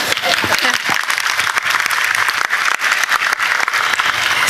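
Audience applause at an event, loud dense clapping close by that fills the whole clip without a break.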